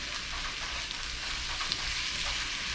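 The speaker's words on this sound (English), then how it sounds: "I just stir all that up together." A seasoning mixture of salt, garlic and red pepper is stirred, giving a steady close hiss and soft scraping texture with no talking.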